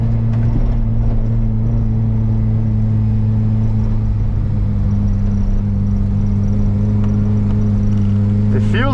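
A Volvo 740 with an upgraded 25 mm IPD sway bar drives a warm-up lap on a track, its engine a steady, loud droning hum with road rumble in the cabin and a brief squeal near the end.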